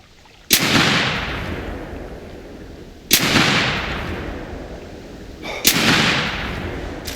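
Three loud rifle slug shots fired at a bear in the hunting game theHunter Classic, each a sharp crack followed by a long booming tail, spaced about two and a half seconds apart.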